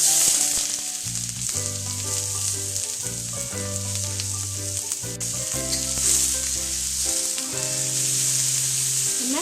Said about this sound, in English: you really want a hot wok, and you want to brown your garlic, onions, and the white part of your